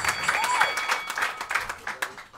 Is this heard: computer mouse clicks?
no